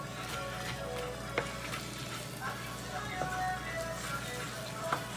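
Turkey fried rice with mixed veggies sizzles steadily in a pan while a spoon stirs, with occasional soft clinks over a constant low hum, moderately close.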